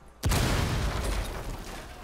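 A sharp blast erupts in Rainbow Six Siege after a brief quiet moment, followed by a sustained rumbling roar and debris noise that slowly fades over two seconds.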